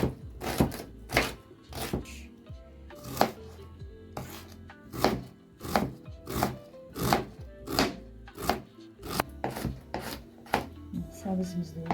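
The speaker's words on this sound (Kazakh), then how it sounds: "майдалап, көбіктеп турап аламыз осыларды." A knife chops potatoes finely into cubes for manti filling on a cutting board, sounding as a steady series of sharp, close knocks at roughly one per second, loud and alone.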